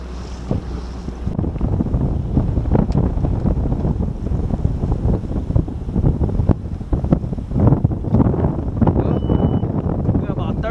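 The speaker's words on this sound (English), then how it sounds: "The wind's picked up quite a bit, as you can see." Wind gusting over a lake around a bass fishing boat during tournament practice on Table Rock Lake, a steady loud rumble of wind buffeting the microphone with water lapping and someone talking intermittently throughout.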